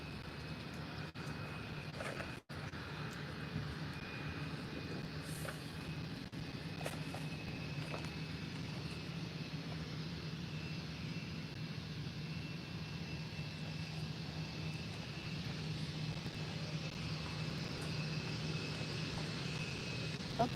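An airliner taxiing at Málaga Airport toward the runway holding point, a steady distant engine whine and rumble with a faint click near the start.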